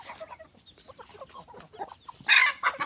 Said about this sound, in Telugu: ఇలా కోళ్ళు అయితే ఫ్రీ రేంజ్లో తిరిగితే